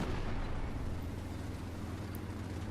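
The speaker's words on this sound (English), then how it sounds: "now they finally kill the M19 with a missile" In the War Thunder video game, a missile blows up an M19 vehicle, heard as a loud, dense, sustained roar of blast rumble that stays steady throughout with no voices.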